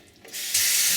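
A kitchen sink tap is turned on and water rushes out, building quickly from a trickle to a loud, steady close stream.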